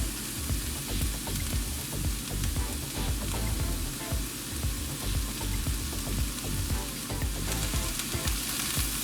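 Mushrooms and onions sizzle steadily in a greasy pan, a dense, even crackle that runs unbroken and fairly close throughout, with no voices.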